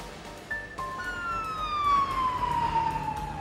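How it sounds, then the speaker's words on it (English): An emergency vehicle siren in New York wails with a single long falling tone, fairly loud and close, over a low traffic rumble. "Emergency vehicles arrived moments later."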